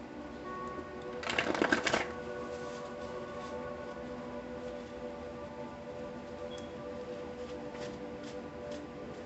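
Tarot cards being shuffled in a brief broadband riffle burst of about a second near the start, then a steady low background hum with faint clicks for the rest.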